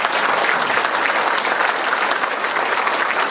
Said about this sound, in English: So another round of applause for our senior staff.